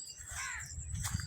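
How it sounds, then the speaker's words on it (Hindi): Crow cawing in a mango garden: a few harsh, raspy caws over steady outdoor background noise, moderately close, with no talking. "ये काला चमसा आ गया।"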